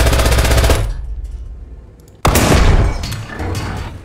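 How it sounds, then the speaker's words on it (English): Machine gun fire in War Thunder: a loud, rapid rattling burst that tapers to a pause, then a second sharp, heavy burst kicks in and rolls on with echoing tails. "I'm gonna just machine gun this real quick."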